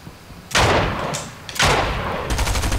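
Loud gunshots from a video game shooter, several sharp blasts in quick succession with short bursts of rapid fire near the end, close and punchy with no talk.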